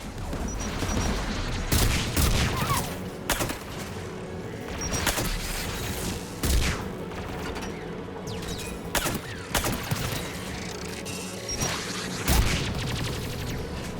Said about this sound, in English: Anti-aircraft guns are up ahead.